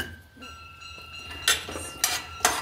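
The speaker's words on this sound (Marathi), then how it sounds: "शेंगदाणे पण भाजून घेऊ।" Peanuts dry-roasting in a pan while a utensil stirs them, giving three sharp metallic clinks and scrapes over a quiet kitchen background.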